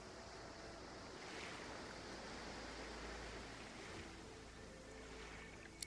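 Ocean waves in the video game Divinity Original Sin 2, at a shipwreck shore; a soft, steady wash of surf and wind hiss continues throughout, faint and distant with no speech.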